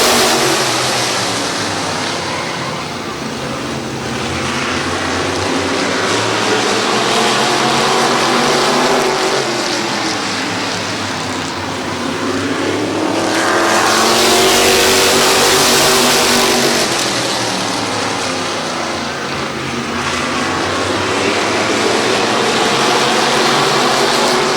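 Race cars roar off the green flag at Midvale Speedway, a loud, sustained engine drone that swells and fades in waves as the pack accelerates and passes close by, with no voices.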